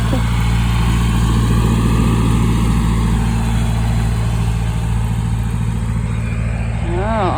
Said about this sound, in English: Going by on fancy pants tractors.